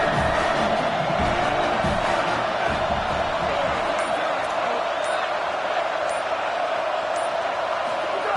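A packed college football stadium of Wisconsin Badgers fans roars in a steady, loud wall of cheering and crowd noise before a third-down play against USC, with a commentator's voice faintly present.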